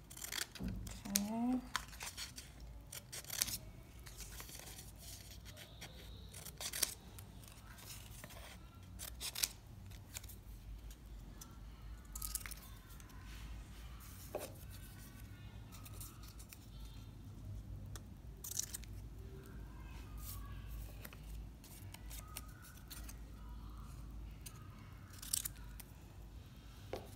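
Scissors snip roughly through paper to cut out paper pennies in a quiet room, with many small, faint cuts scattered throughout and a voice speaking now and then.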